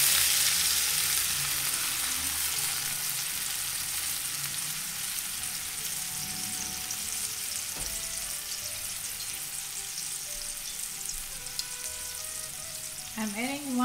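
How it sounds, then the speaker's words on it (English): Garlic sautéing in a pan for Armenian dolma, a strong close sizzle that eases off gradually, with a soft utensil knock midway and a brief voice at the very end. "I'm going to saute the garlic."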